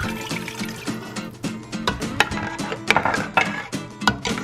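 Water poured into a cooking pot for chicken kare-kare, a close splashing, gurgling fill with irregular clinks and bubbling bursts, alone without talk.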